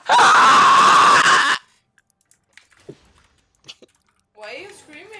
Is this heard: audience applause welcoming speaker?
no